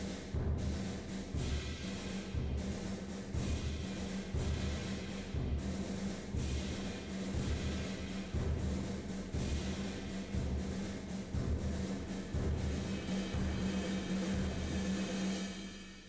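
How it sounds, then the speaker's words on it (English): Rhythmic orchestral percussion for a storm-themed piece, steady repeating hits with low drum pulses continuing at an even loudness throughout, with broad ensemble texture above. "just some rhythmic stuff in the percussion"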